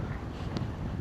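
Cold coastal wind at Kiama, Australia rushes steadily against the microphone, a low buffeting roar with no voices, continuous for about a second.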